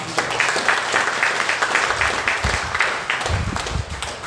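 Congregation applauding in a church service, a steady wash of many hands clapping throughout, moderately loud and fairly even, with a murmur of voices underneath.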